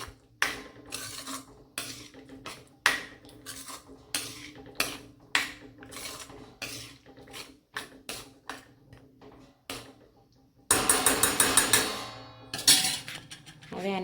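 A spoon knocks and scrapes against a pan while a cashew and garlic curry is stirred, giving a series of sharp clinks at irregular intervals, close up, with a brief burst of sizzling toward the end.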